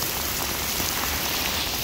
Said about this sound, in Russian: Смотрите, как поливает. Чисто тропический ливень.